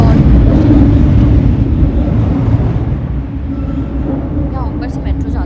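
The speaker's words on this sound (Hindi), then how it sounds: "यहाँ ऊपर से मेट्रो जाती है तो उसकी बहुत आवाज़ आती है।" An elevated metro train passes overhead and is heard from indoors below the track as a loud, heavy low rumble that slowly fades as it moves away.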